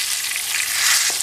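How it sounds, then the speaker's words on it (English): Green tomato slices frying in a skillet hiss with a dense, steady sizzle, close and continuous for a brief moment with no talking. "Continue frying for an additional 3 minutes."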